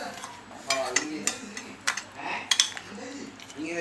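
A spoon clinks and scrapes in a bowl while mixing raita of chopped onion, cucumber, chilli, salt and sugar, giving a string of sharp taps at an uneven rhythm, close and fairly quiet.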